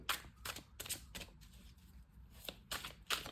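Tarot cards shuffled and handled in a series of quick, crisp riffling and flicking bursts, fairly quiet and close, with brief pauses between them and no talking.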